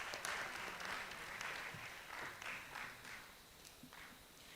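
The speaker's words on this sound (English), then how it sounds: "Round of applause for yourselves." Faint, distant applause from an audience of contestants at an inter-school spoken word contest in Accra, uneven clapping that rises and falls with a few sharper claps.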